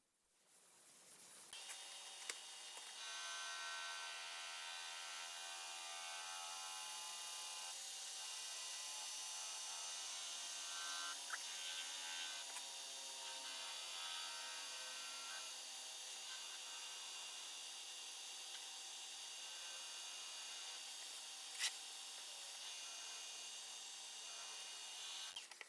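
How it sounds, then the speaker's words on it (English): An oak burl and resin bowl spinning on a woodturning lathe while being sanded with extra-fine abrasive sanding paste: a steady, quiet high-pitched whir and hiss of abrasion, continuous throughout with a few faint ticks. "I'm using Brad's abrasive sanding paste."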